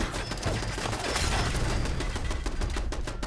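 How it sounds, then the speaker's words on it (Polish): Rapid automatic gunfire from a turret in Fallout 4 rattles on in a dense, continuous burst at moderate loudness with no talk over it. "Tam wieżyczkę jakąś słyszę."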